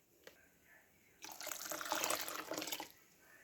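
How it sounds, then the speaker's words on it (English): Water poured from a cup into a yellow mustard seed and dry mustard mixture, a soft splashing pour lasting about a second and a half after a faint click, quiet and close with no talk. "And then 2 2/3 cups of water."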